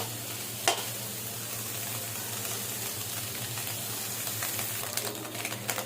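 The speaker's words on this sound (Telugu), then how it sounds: "చూడండి, మన వెజ్జెస్ కూడా బాగా ఫ్రై అయ్యాయి." Vegetables and chillies frying in oil for Telugu-style egg fried rice give a steady close sizzle with a soft crackle throughout, broken by a sharp clink near the start and a few light utensil taps toward the end; no one speaks.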